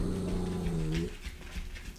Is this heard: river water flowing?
no